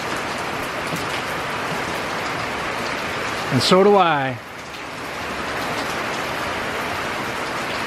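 Steady rain hisses down outdoors beside a backyard barbecue smoker cooking pork ribs, with a brief spoken remark midway over the constant patter.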